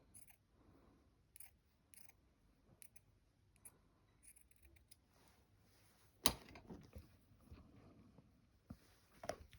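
Small scissors snip quietly at loose thread on a hand-stitched quilt, several faint cuts spread across a soft, close background of handling and rustling with one sharper click partway through.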